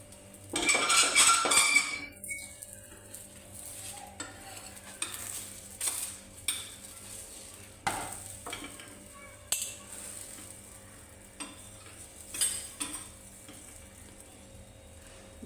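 Utensils scrape and clink on a hot griddle as a paratha roasts in butter or ghee, with a faint sizzle, scattered taps and stirring sounds spaced out over a quiet background.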